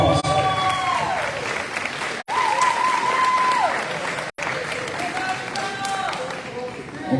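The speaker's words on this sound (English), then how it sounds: "Give them a big round of applause." Applause at a high school athletic banquet, steady clapping from a seated crowd, broken by two brief dropouts, with short whistles or cheers riding over it.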